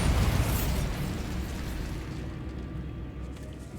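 A Bombarda blasting spell goes off in the Hogwarts Legacy video game inside a decaying catacomb, a loud close burst that fades into a long rumbling decay.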